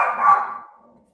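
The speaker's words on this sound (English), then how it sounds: "She's the cutest little dog, but she loves to bark when she's not meant to bark." A small dog lets out a single loud, close bark that tails off into a brief fading whine, with no talking.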